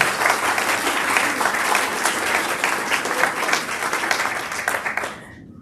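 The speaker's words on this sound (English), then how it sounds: "So I want to take a moment and pause for a quick round of applause for everyone who has been Hall of Fame families for excellence." Audience applause at a Hall of Fame ceremony in a flight museum, a full, steady roar of many clapping hands with a few whoops, lasting about five seconds before quickly dying away.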